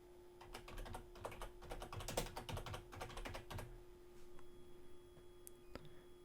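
Fingers type on a computer keyboard in a quick, close burst of clicking keystrokes for a few seconds, then trail off into a couple of isolated taps over a faint steady hum.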